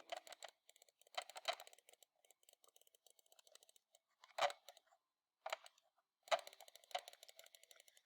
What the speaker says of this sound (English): Now I'm just clicking like crazy.